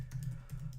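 Rapid keystrokes on a computer keyboard, a quick run of light taps in an uneven rhythm, close and fairly quiet over a steady low hum.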